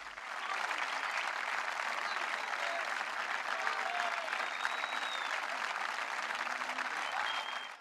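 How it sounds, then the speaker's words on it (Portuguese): Football fans applaud and cheer as Vitória players arrive for the club's first training session of the 2012/13 season, a steady unbroken wash of clapping from a crowd outdoors. "cânticos e aplausos deram as boas-vindas aos jogadores"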